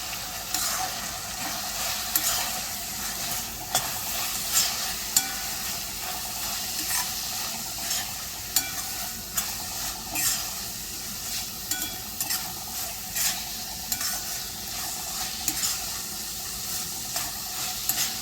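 Spices with asafoetida sizzle and crackle in a hot wok, with scattered pops and scraping stirs over a steady hiss, close up and without talk.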